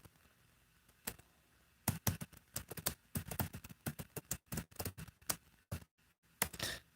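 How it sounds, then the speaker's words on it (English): Fingers type on a computer keyboard in quick, irregular bursts of sharp close clicks, with short pauses between runs of keystrokes. "you can't even see what I'm typing there, can you?"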